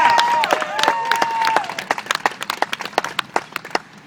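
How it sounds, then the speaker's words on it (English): Crowd applause for Charlie Baker at a Bridgewater, Massachusetts campaign event, starting under a loud enthusiastic voice and cheers, then breaking into sparse, distinct individual claps that taper off. "you can clap, Charlie Baker"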